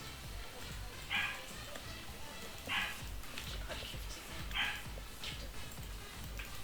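Three short, high yelping dog sounds from a video game (Saints Row) spaced a couple of seconds apart over a low, steady rumble of background noise.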